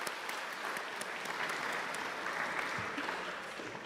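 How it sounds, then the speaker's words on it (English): An audience at a monthly community meeting claps in a steady, full round of applause, dense and continuous throughout with no speech over it. "Let's have a round of applause."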